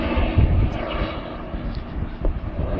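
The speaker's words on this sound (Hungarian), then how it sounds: "Helikopáter! Remélem nem lőnek le." Military helicopter flying overhead on the Greek island of Patmos, a continuous broad engine roar with low rhythmic thumping, fairly loud and steady throughout.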